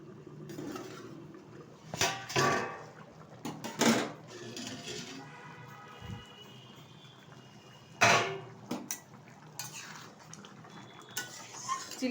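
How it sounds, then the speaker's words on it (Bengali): Metal lid and pot clatter in a home kitchen while making chili chicken, with several sharp clanks and scrapes spread over a quiet background and soft handling sounds in between. "ঢাকনাটা তুলে দিচ্ছি"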